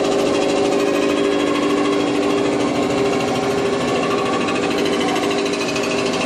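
A Rottler EM45 machine resurfaces an engine block, making a continuous loud, dense mechanical chattering and grinding drone that holds steady throughout the cleanup pass.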